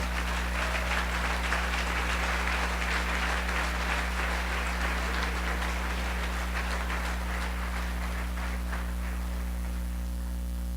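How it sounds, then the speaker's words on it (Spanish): A church congregation applauds steadily for about eleven seconds, a dense wash of clapping sitting over a constant low electrical hum. "Dale un aplauso al Rey, por favor."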